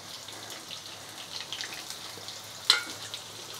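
Onion frying on a high flame in a pan after a panch phoron tempering, a faint, steady sizzle with a light stir or clink near the end, no voices over it.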